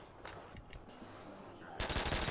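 Gunfire in Call of Duty: World at War Zombies on the Nacht Der Untoten map, a few faint scattered shots followed by a louder burst of rapid automatic fire near the end.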